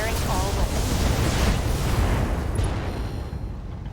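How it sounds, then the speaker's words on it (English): Weapons fire and explosions from the BattleTech 3062 mech game roll on as a dense, loud, continuous barrage of booming blasts with no break across the whole stretch. "Firing all weapons."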